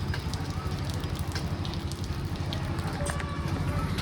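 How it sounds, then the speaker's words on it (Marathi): Steady rain falling in sunshine patters and hisses continuously at a moderate level, an even wash of drops with no voices, heard from a balcony. "उन्हामध्ये पाऊस चालू आहे"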